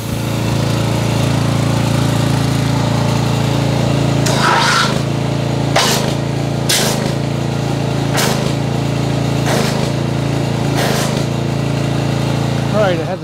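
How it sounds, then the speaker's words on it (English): A pressure washer feeding an MTM foam cannon sprays Duragloss car wash concentrate during a car wash soap test. Its motor drones steadily and loudly throughout, broken by several short bursts of sharp spraying hiss. "I had to fix the pressure washer"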